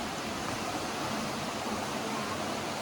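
A big waterfall in Pisgah National Forest pours in a steady, broad rushing hiss, constant and moderately faint.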